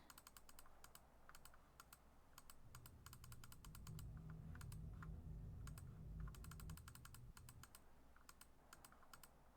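Rapid mouse and keyboard clicking while playing a Nancy Drew video game, quiet and close, in fast irregular bursts of crisp clicks over a low hum, with no talking.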